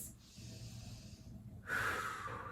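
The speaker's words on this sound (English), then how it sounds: "I swear the breathing helps, even if it sounds dramatic." Heavy, forceful breaths in and out during a held yoga pose, close and raspy, with a sharp snorting exhale near the end of a quiet stretch.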